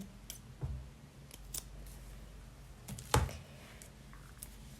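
Scissors snip through a loop of Alize Puffy Fine yarn, several quiet, close clicks with short pauses between them and one sharper cut toward the end.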